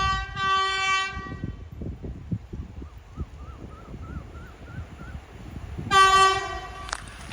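Passenger train 252 passes through a village, its wheels clattering in a rhythmic stream of rail knocks while a loud multi-tone horn sounds at the start and again near the end.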